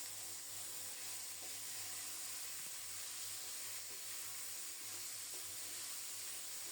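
Drumstick stalks and cut potato fry in a pan of hot oil tempered with black cumin and radhuni, giving a steady, even sizzle and hiss with faint clinks, close and continuous, no talking.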